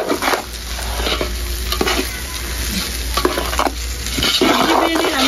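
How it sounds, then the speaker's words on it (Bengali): Rice and ground spices, chili, cumin and coriander, are stirred together in a pan for biryani, with close, repeated scraping strokes over a constant sizzle. "সব মশলা চালের সাথে খুব সুন্দর করে মিশিয়ে নিই"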